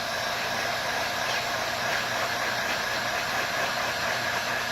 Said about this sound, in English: So you're gonna get the heat gun and you're gonna blow on the outside.